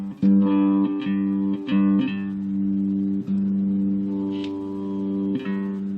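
Bass guitar played through a small Roland Micro Cube amp, a few sustained low notes with sharp plucked attacks, loud and close with no talking.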